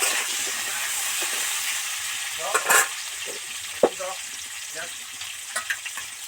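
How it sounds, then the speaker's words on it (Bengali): Pointed gourd (parwal) sizzles steadily as it fries in a pan, with a few louder scrapes and clinks of stirring scattered through the continuous crackle. "পটলটা ভালো করে ভাজা হওয়ার জন্য দু মিনিট ঢাকা দিয়ে দেব"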